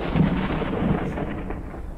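A deep thunder rumble during a storm in Forever Skies, loud and close with heavy low roar over rushing rain-like noise for its brief length.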